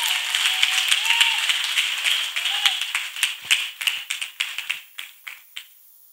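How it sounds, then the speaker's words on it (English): A crowd applauds, with a dense burst of clapping that thins into scattered, distinct claps. Faint voices and cheers come through early on. "Let us clap for Master Jesus."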